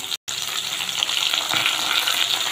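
Mint leaves drop into a hot frying pan of browned green chillies for a mint, tomato and chilli chutney, setting off a loud, steady hiss and crackle that swells slightly and stays close, with no talking.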